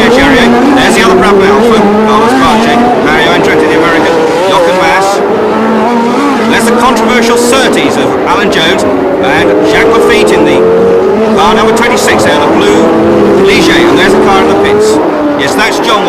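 Formula One cars, including a Brabham Alfa, race at the United States Grand Prix West at Long Beach. Engines roar loudly and continuously with rising and falling pitch as cars pass, under steady commentary.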